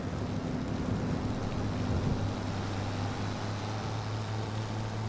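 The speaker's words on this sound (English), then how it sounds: "There is a weird sound effect when it rains when you get down by the river" Rain sound effect near a river in Farming Simulator 25, a dense continuous hiss with a low rumbling hum underneath, steady and loud throughout with no talk.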